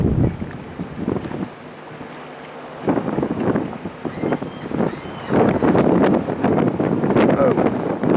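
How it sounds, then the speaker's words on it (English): Strong wind buffets the microphone in loud, gusty rumbles aboard a 2000 Grady White 248 Voyager boat, easing briefly before surging again, with a faint engine or water hum beneath. "Oh, it's just windy today, guys."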